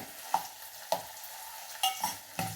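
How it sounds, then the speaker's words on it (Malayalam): Onion and ginger sautéing in a pan give a low frying hiss broken by a few sharp spatula clinks and stirring scrapes, close and fairly quiet, with no talking. "സവാളയും ഇഞ്ചിയൊക്കെ അങ്ങനെ വഴന്ന് വരട്ടെ"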